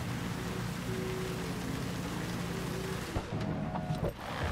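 Steady rain in Cyberpunk 2077, a constant wash of falling drops under faint tonal game sounds, with a few sharp knocks near the end.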